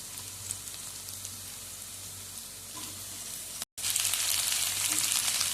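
Sliced okra sizzles and fries in a hot pan for a Tamil-style poriyal, a constant close crackling hiss that briefly drops out then returns louder and brighter.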